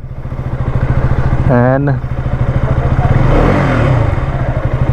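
A KTM RC 200 GP Edition motorcycle engine idles close by with a rapid, even low thumping pulse. A brief voice cuts in near the middle.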